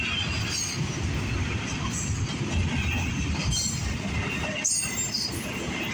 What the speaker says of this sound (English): Okay, there goes the end of our southbound double stack.